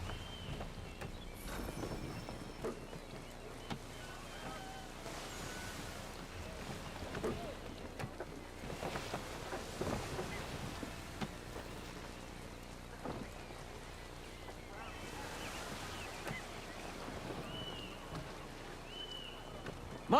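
A sailing ship glides through shallows in the Assassin's Creed video game, with a dense, continuous wash of water and wind-like roar that swells and ebbs steadily throughout.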